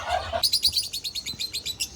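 African birds in a loft colony chirp in a rapid series of bright, close tweets, about a dozen short calls in a steady rhythm over a low background hum.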